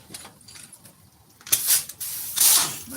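Pneumatic air tool hissing outdoors in the rain, two loud bursts of air in the second half after a quiet stretch of faint background noise.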